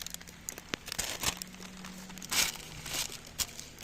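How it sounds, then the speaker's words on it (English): Grease paper crinkles and rustles in short irregular bursts, close by and fairly quiet, with no speech. "I need a bit of grease paper just so everything is easy to remove later."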